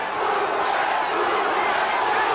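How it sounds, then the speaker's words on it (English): Boxing arena crowd at the 1989 Roberto Duran vs Iran Barkley fight, a steady dense roar of many voices rising into chanting, loud and continuous throughout without breaks. "The crowd starts to chant again."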